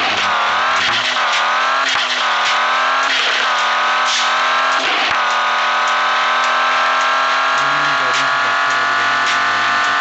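A car engine revs loudly and steadily in a car racing video game, its pitch climbing and dipping through gear changes as the drone holds close and constant throughout.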